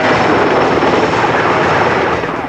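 A helicopter hovers close and loud during a heavy lift at the CN Tower construction site in Toronto, its steady rotor and engine roar filling the moment with no pause.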